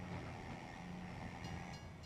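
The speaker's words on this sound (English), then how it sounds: "I narrowly missed the train there." A train rumbles past in the Farming Simulator 25 video game, a steady, dense low roar with a faint rhythmic clatter, heard alone without voices.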